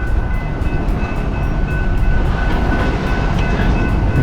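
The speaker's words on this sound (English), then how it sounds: "The train was going the other way, now it just started going backwards." A train rumbles steadily and loudly up close on Route 66, with a continuous low roar, faint rhythmic clatter and a high metallic whine over the top.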